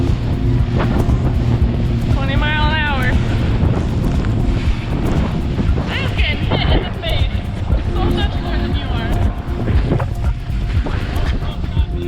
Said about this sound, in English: as we headed further out to sea, we started to hit some rougher waves